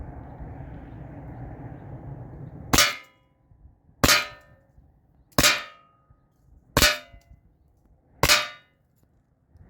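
Five sharp, loud metallic clangs from a Byrna SD launcher's projectiles striking an aluminum panel, evenly spaced about a second and a half apart, each ringing briefly before fading into quiet.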